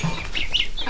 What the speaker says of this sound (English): Baby ducks and chicks and a goose and everybody.